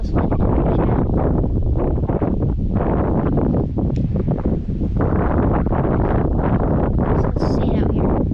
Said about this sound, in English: this is actually like ridiculous wind right now.